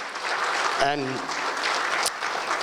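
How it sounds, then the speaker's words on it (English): Audience applause at a CA Sri Lanka Kuwait Chapter event fills the clip as steady, dense clapping, with a brief voice rising through it near the start. "give him a round of applause"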